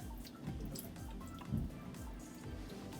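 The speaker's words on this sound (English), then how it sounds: "Just a little vinegar on it to clean it." Vinegar poured onto a raw piece of farmed salmon makes a soft, steady trickle with irregular small drips and splashes, faint and close, with no talking.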